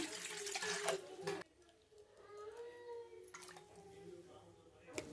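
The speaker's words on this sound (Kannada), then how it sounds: "ಈ ಬಾಳ್ಗೆ ಒಳಗೆ ಭಾಳಷ್ಟು ನೀರು ಹಾಕ್ತೀನಿ" Water runs steadily into a bowl for making homemade butter, with a louder splashing burst at the start and again near the end, close by.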